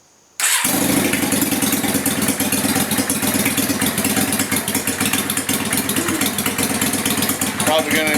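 A motorcycle engine cranks and catches, then runs at a loud, close, steady idle with a rapid throbbing pulse and a slight rise in revs near the end, with a voice talking over it.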